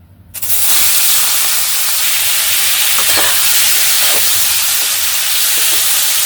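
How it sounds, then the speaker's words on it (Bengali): Prawns coated with salt and turmeric hit hot oil, bursting into a loud, steady sizzle that continues unbroken with faint crackles and spatters throughout. "তেলও আমার গরম হয়ে গেছে তো এখন আমি মাছটা দিয়ে দিচ্ছি"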